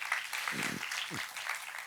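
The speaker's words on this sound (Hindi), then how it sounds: "तालियों के साथ इनका स्वागत करें।" A church congregation at a Sunday service applauds to welcome first-time visitors, a broad, even wash of clapping, with a brief voice cutting through it.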